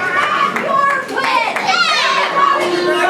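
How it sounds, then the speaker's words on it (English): A wrestling crowd at the Barre Elks Lodge jeers Mike Skyros after his win, a dense, loud wall of shouting and booing voices with scattered claps throughout, close and continuous. "Crowd here at the Barre Elks Lodge telling Skyros exactly what they think of him"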